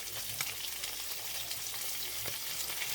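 Peanut-coated tilapia fillets fry in a pan with a steady, close crackling sizzle and a few sharper pops and spatula clicks. It stays fairly quiet and even throughout, with no voices.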